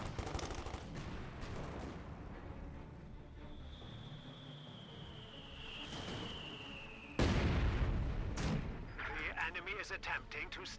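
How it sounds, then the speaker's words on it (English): Mortar fire in Company of Heroes 2, a World War II strategy game, with repeated booming artillery blasts and gunfire amid battle noise and a whistling shell, growing louder near the end while a commentator talks over it. "More mortar fire there."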